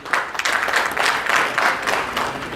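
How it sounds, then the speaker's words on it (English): Audience applause for the speakers at a security technology conference on safe and secure cities, with sustained dense clapping from a crowd lasting throughout. "A big applause for our speakers"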